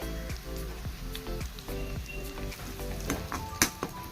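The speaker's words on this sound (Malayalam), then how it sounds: "മുളകും ഉള്ളിയും എല്ലാം നല്ലോണം ഒന്ന് മൂക്കട്ടെ." Onions, garlic and chillies fry in a pan with a quiet, steady sizzle, broken by a run of soft scraping stir strokes and a sharp clink near the end.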